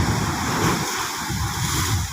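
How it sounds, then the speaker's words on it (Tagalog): Ocean waves at low tide after Typhoon Kristine make a constant broad rushing roar of surf, loud and close with no clear breaks. "medyo lumiliit na ang alon kasi uh, low tide na"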